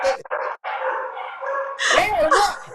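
Puppies bark and yip in short bursts, close and fairly loud, mixed with voices talking at the end of an evening live show.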